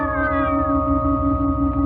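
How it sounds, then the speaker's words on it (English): Cats yowl outside an inn in a radio drama, a drawn-out wavering caterwaul over a steady droning background, loud and close, with no talking. "What's that racket? Just cats."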